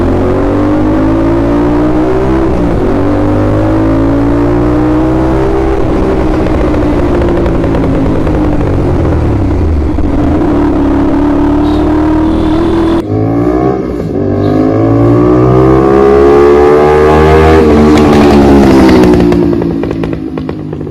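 An Aprilia RS 457 motorcycle fitted with an SC Project aftermarket exhaust revs loudly and close by. The engine note rises and falls through repeated throttle blips and sustained high revs, with a sharp rasp and no speech over it.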